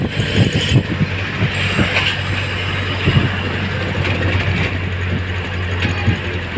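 Loud, steady rumble of a train rolling past overhead on an elevated track with rhythmic clattering of wheels on track, sustained throughout.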